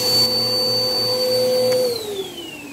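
Bissell Powerforce vacuum cleaner running with a loud steady motor whine that drops in pitch near the end as it powers down, with no voices.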